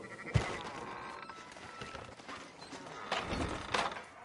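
Sheep bleat inside a video game: a sharp bleat near the start and a couple more toward the end, over a soft background with faint hoof-like clatter.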